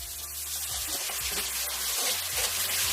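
A little water poured into a cooking pan with seasoning and carrot, cooked without oil, giving a steady close hiss and rush that runs through the whole moment.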